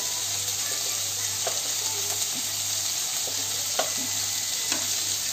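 Vegetables fry lightly in a pan with a constant close sizzle, a low steady hum underneath and occasional soft clicks of stirring, with no voices.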